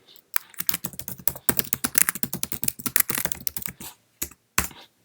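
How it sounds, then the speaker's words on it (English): Typing on a Mac computer keyboard, a close, quick, irregular stream of light key clicks with short bursts and pauses, ending in a few isolated taps; no one speaks. "type something"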